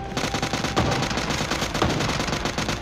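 Rapid automatic rifle fire in the PUBG Mobile video game, an M416 or M762, rattles in dense continuous bursts, loud and close, with a couple of heavier shots standing out.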